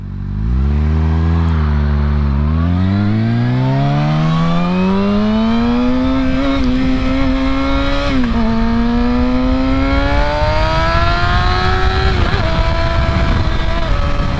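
A 2020 Kawasaki Ninja ZX-6R 600cc sportbike with a quick shifter revs hard while riding, its engine pitch climbing steadily through the gears with brief dips at shifts, loud and close for the whole stretch without speech.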